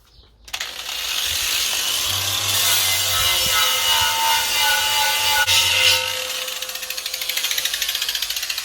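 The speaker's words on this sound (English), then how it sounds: "Next step is using a flat leaf angle grinding disc, and we're just going to prep the edge around here for welding." An angle grinder with a flap disc grinds the edge of a steel propane tank to prep it for welding. The abrasive whine is loud and continuous for about five seconds, then winds down with a fading, pulsing rattle.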